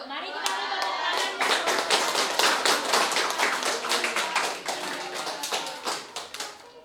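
A classroom of students claps hands after a presentation, with a quick bright patter of many hands that swells and then thins out near the end.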